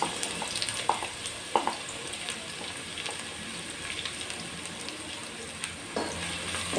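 Two sliced onions fry in oil in a pot, browning with a steady crackling sizzle and occasional knocks of a large spoon against the metal, nearby and with no talking.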